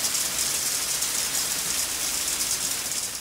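Heavy storm rain drenching San Diego County, a constant loud hiss of downpour on surfaces, unbroken and without voices.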